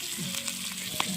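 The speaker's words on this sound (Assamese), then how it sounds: "আমালৈ জলকীয়া ভাজি বনাইছে" Bhut jolokia chilies fry in oil at an outdoor picnic cookout, a close, steady sizzle with a few light stirring clicks and one sharp tap near the end.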